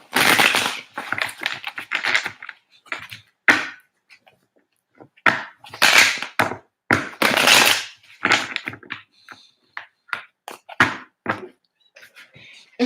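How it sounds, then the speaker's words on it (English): Tarot cards are shuffled in repeated short bursts of crisp riffling and slapping, near and fairly loud, separated by brief quiet gaps as the deck is handled. "Cards don't want to shuffle."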